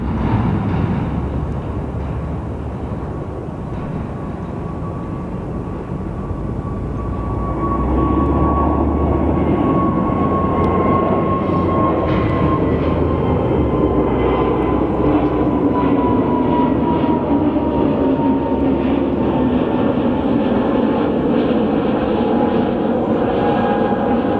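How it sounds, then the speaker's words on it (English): A Frontier Airlines jet at Phoenix Sky Harbor airport produces a loud, continuous engine roar with a whining tone that shifts in pitch, steady and close for the whole stretch. "Frontier 3193, Hazel the Chipmunk livery"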